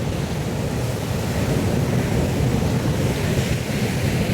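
Waves at Bheemili beach in Vizag roll in as a continuous loud wash of surf, mixed with wind buffeting the microphone.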